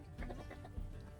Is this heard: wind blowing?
no